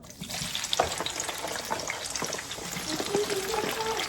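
Onion frying in vegetable oil for a Goma-style bean sauce, a moderate, steady sizzle with scattered crackles and a few stirring clinks, close and without speech.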